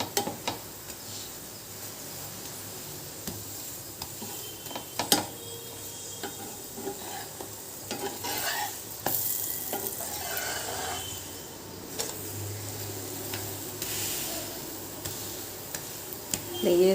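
A chapati stuffed with sweet dry fruits fries on a hot pan, giving a soft, steady sizzle with scattered small ticks and clicks throughout.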